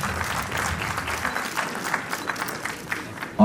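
A seated audience applauds a guest at the 38th IGNOU Regional Convocation in Srinagar, a steady, moderately loud patter of many hands clapping that continues through the whole clip.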